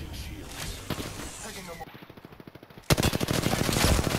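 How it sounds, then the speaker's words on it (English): Sustained automatic gunfire from another squad in the Apex Legends video game, with a steady rattle of rapid shots that grows louder and denser partway through and continues without a break. "They're getting shot at from a different squad."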